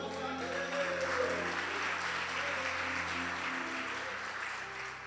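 A church congregation applauds during a worship service as a steady, moderately distant wash of clapping, with low sustained organ or keyboard tones and faint voices beneath.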